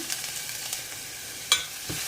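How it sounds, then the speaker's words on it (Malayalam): Chopped onions fry in hot coconut oil in a pressure cooker on a medium flame, a steady close sizzle broken by a few sharp clicks of stirring. "എണ്ണ ചൂടായി വരുമ്പോൾ അതിലേക്ക് അരിഞ്ഞു വെച്ചിരിക്കുന്ന സവാള ചേർത്ത് കൊടുക്കാം"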